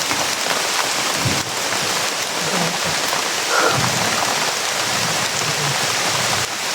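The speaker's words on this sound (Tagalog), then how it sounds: "Umuulan na." Heavy rain falls without pause, a constant loud wash of drops on surfaces, with a faint low rumble now and then.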